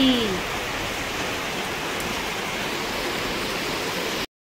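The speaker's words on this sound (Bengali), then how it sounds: "কি বৃষ্টি হচ্ছে দেখো" Heavy rain pours steadily outside a home, a dense, even wash of noise holding at the same level throughout with no breaks.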